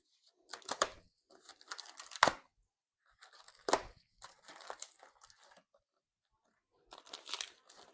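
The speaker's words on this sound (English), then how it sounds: "so another unwrapping." A well-wrapped car part for a barn-find Volkswagen project being unwrapped, with several separate bursts of crinkling and tearing wrapping and a few sharper crunches between short pauses, close and fairly quiet.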